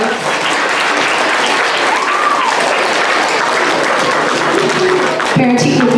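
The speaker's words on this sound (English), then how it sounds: "Let's give these boys and girls a big round of applause for showing problem-solving skills." Loud, dense audience applause for students at a school ceremony, steady clapping throughout with a crowd murmur and a brief voice near the end.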